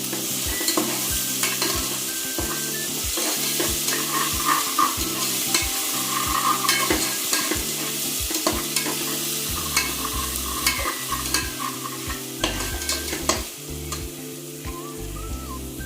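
Ground ginger garlic paste sautéing in a pan for a spicy crab gravy: a continuous close sizzle with frequent sharp spatula scrapes and knocks against the pan in an uneven rhythm.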